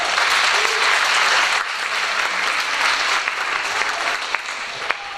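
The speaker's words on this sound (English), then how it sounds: "Give them a big round of applause." An audience at a school district spring art show gives students a big round of applause, steady dense clapping that stays loud throughout with a few sharper individual claps near the end.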